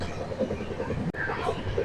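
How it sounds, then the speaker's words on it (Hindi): Aboard the Ala Hazrat Express passenger train running at full speed, a steady close rumble and rattle of the carriage fills the cabin, with a brief dropout and faint voices in the background. "पूरे रफ्तार में हमारी ट्रेन है।"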